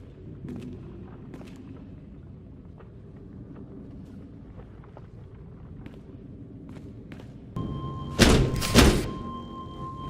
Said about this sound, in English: Then return and start banging on the door.